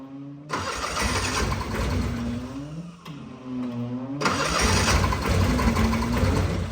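A fuel-injected 1972 Honda N600 engine cranks and fires up, settling into a steady, loud idle close by; revs dip briefly mid-way then rise again, with no voices.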